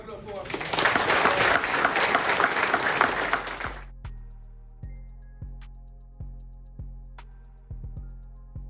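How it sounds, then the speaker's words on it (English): Loud, dense audience applause at a Colorado Buffs football team meeting with Coach Prime fills the first few seconds, then cuts off abruptly, leaving a steady series of deep, evenly spaced thumps, like a slow beat. "Let's clap it up for our"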